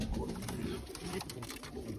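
Young pigeons cooing close by in a loft in Boryspil, soft repeated low throaty coos running continuously through the short stretch.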